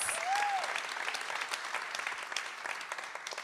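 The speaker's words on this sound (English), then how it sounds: "please give a huge round of applause" Faint, steady applause from an audience at a Hamptons Institute youth climate movement event, continuous clapping heard at a distance for a few seconds.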